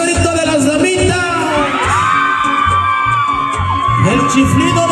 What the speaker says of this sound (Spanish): A ver ese grito de las damitas.